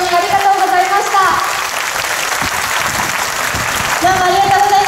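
A crowd at a Japanese anti-nuclear rally gives loud, sustained applause, a steady broadband clatter, with an amplified voice cutting in at the beginning and again near the end.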